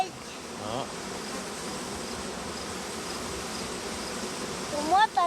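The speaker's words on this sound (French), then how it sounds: "Regarde les abeilles ici, là." Bees buzzing around an open hive full of brood, a steady, dense, close hum of many insects, with a brief voice-like sound near the end.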